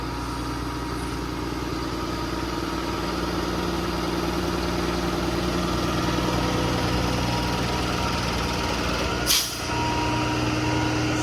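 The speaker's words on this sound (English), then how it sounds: "I just bumped the idle up off of the remote as well." A 2013 Ford F750 IMT service truck with a Cummins engine and Allison automatic idles steadily at a raised idle, a constant near rumble with a brief hiss of air near the end.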